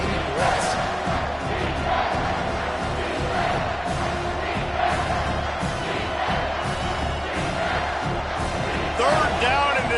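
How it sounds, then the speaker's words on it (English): A stadium crowd at a football game roars continuously on third down, a loud dense wall of yelling and cheering that swells slightly near the end. "Third down, and this crowd will blow out a vocal cord to help this defense."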